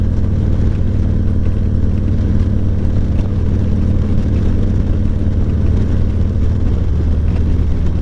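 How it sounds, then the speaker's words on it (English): A motorcycle engine idles on a cold day as a loud, close, steady low rumble that holds an even pitch throughout. "So it's sitting there, it's idling, it's heating up, it's not doing anything for the battery."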